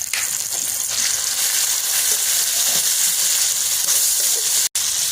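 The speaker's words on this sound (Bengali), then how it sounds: "এরপরে আমি টমাটো কুচিটা দিয়ে দিলাম" Chopped tomato dropped onto lightly fried onion, ginger and garlic in a pan, for a village-style butter prawn dish, sizzling and frying loudly and steadily with a brief break near the end.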